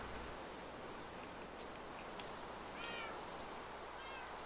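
A cat meows in a video game where cats can be bred, giving a couple of soft, short meows against a steady hiss of background noise, with no talking.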